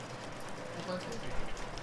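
Steady rain in the video game Shadows Over Loathing, a continuous soft hiss of falling drops with no breaks, moderately loud across the short stretch.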